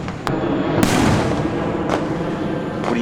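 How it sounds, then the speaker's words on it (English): Fourth of July fireworks crackle and pop nearby, with a sharp burst at the start, a heavier rumbling boom, then scattered fainter reports over a continuous noisy backdrop. "What do you think of the fireworks?"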